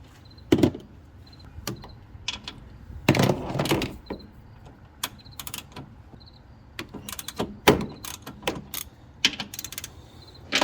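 Wrench work loosening the wheel lug nuts on a Camaro ZL1 1LE, with scattered metallic clicks, ratcheting and clanks at irregular intervals, close by and moderately loud, with no voices.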